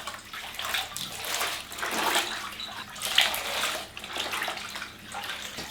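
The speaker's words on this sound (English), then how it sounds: "And then to rinse, you pretty much just drop it in and pull it out." A shirt being rinsed by hand, dropped into water and pulled out again and again, giving repeated splashing and sloshing surges that rise and fall steadily at close range, with no talking.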